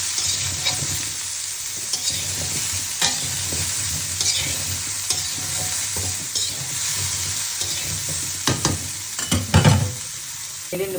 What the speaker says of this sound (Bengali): ফুলকপি, আলু এই যে ভেজে উঠে নিয়েছি